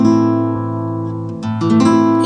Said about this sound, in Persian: این صدای مطلوب لا مینوره.